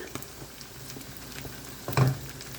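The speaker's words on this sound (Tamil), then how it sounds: "நம்ம சிக்கன் ஃப்ரை பண்ணிகிட்டு இருந்தோம் இல்லையா, அது இப்படி தான் இருக்குது" Chicken frying in oil in a pan, a soft continuous sizzle with light crackles and one brief louder clatter near the end.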